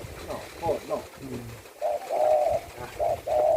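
A spotted dove coos nearby in a series of clear, rhythmic repeated phrases, following a stretch of talk at the start.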